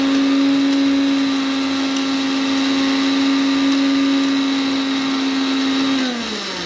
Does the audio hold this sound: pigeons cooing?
no